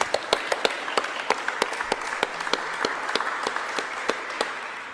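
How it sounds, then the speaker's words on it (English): An audience applauds as two guests are welcomed onto a stage, a steady wash of clapping with distinct individual claps standing out, fairly close and with no talking over it. "Give him a big round of applause, Clint Sodowsky and Kaeden Amerine."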